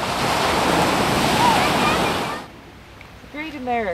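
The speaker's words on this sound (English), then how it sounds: "Indian Ocean." Indian Ocean waves roll in as a broad steady surf roar with wind for a couple of seconds, then drop away to a quieter background where a voice speaks briefly.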